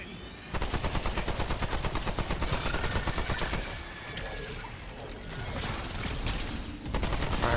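Sustained automatic gunfire in Remnant 2 rattles on in long, fast bursts, loud and near, with short pauses and impact crashes between volleys.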